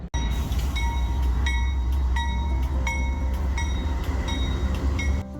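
Trains roll past close by, a loud, steady rumble of rail cars with rhythmic wheel clicks and high metallic squeals running through the whole stretch, with no voices.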